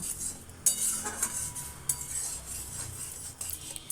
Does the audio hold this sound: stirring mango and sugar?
yes